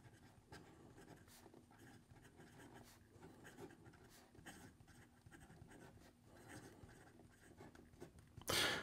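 Fountain pen with a Bach nib writing on paper with blue-black ink, a soft continuous scratching of nib strokes with short pauses, close and quiet, ending with a brief louder rustle.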